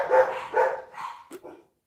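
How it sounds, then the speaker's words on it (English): Several dogs barking in short bursts, three or four clear barks spaced about half a second apart with a couple of yips, fairly close in an indoor home setting with no one talking. "Can you guys hear the dogs barking?"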